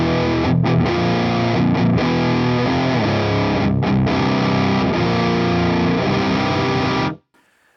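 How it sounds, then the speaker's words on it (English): Electric guitar through a Bogner Ecstasy Mini amplifier with all switches off, a loud, continuous distorted chord-and-riff passage with brief gaps that cuts off abruptly near the end. "It's just what the amp sounds like on its own."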